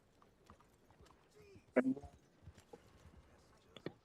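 A few hoof clops from a horse in Red Dead Redemption 2, sparse and fairly quiet, with a brief louder thump in the middle over a faint background.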